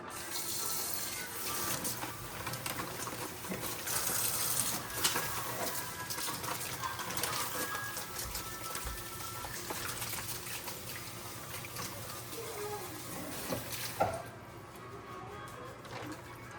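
Kitchen tap water runs steadily into a sink while a whole raw chicken is lightly rinsed, a continuous broadband rush that cuts off near the end, leaving faint room noise and a soft clatter.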